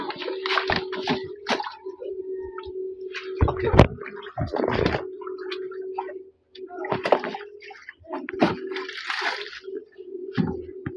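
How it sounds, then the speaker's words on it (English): Catfish eggs poured with water into a hatchery pond, giving repeated splashing gushes under a steady low hum, with people talking in between. "Then pouring the remaining eggs into the other pond."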